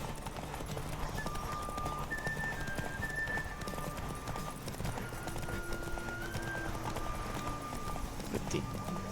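Horse hooves gallop in a steady, fast clip-clop through The Witcher 3 video game, loud and continuous over a constant backdrop of game music and ambience, with no talking.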